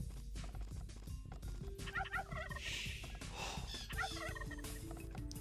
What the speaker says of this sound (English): 3 turkeys are coming back from Hera's base over to Villese's town